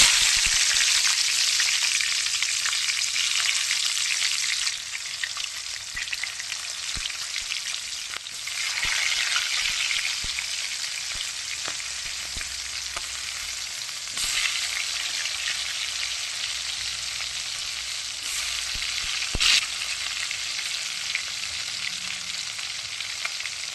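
Tomatoes and green chillies fry in hot oil, giving a loud, steady hiss of sizzling with occasional stirring clicks, close and continuous throughout, with no talking.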